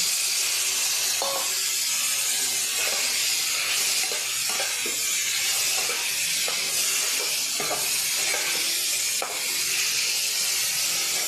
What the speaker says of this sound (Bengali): হালকা একটু ফুলকপিটা ভেজে নেব